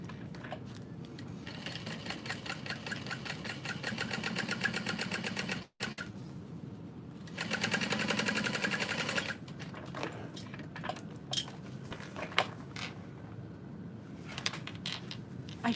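A home sewing machine stitches a seam with right sides of the fabric together, running in rapid, steady mechanical bursts with a brief stop partway through, close and clear with no voices.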